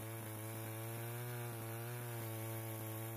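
A chainsaw engine drones steadily while its dull chain grinds through hard eucalyptus wood, the pitch wavering slightly with load; no voices, loud and close throughout.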